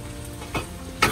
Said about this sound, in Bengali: আমার আলুটাও ভাজা প্রায় হয়ে গেছে, আমি শুধু সামান্য একটু লবণ দিয়ে আমি আলুটা ভেজে নিয়েছি।